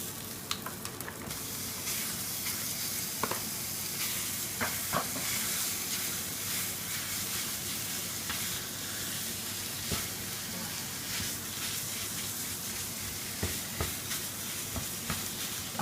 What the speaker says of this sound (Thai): ก็ผัดหมูให้มันเข้ากับเครื่องแกงนะ